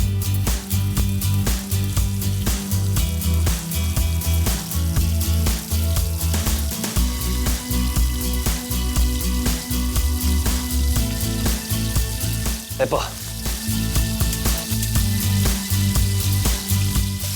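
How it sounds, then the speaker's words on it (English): Prawns sizzling and crackling in a hot pan of refined oil, steady and close, with clattering of a utensil as they're stir-fried quickly. "Time to stir fry the prawn."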